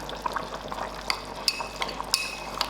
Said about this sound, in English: stir it in well for it not to form any lumps